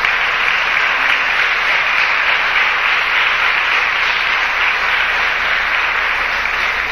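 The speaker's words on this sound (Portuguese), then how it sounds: "Vamos dar um aplauso ao Senhor por isso." Church congregation giving loud, sustained applause, a dense, even roar of many clapping hands filling the hall without pause.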